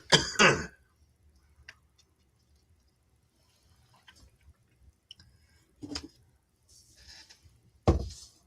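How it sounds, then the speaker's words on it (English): A few harsh coughs and throat clearing, one burst at the start and more near the end, separated by near silence with faint small noises. "Trying to get this cough to pass"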